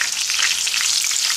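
Garlic and onion fry in hot oil, giving a close, steady, dense sizzle that holds evenly throughout with no voices.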